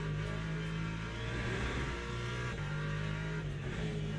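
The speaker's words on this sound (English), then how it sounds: "It's drifting already again." A race car in Le Mans Ultimate slides around Laguna Seca with worn rear tyres, its engine droning loud and continuous with shifting pitch as the tyres skid through the corner.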